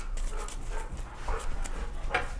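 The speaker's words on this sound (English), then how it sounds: "that's my dog, by the way." A pet dog makes faint, brief whimpering and panting sounds in an indoor room, quiet and intermittent over a low background hum.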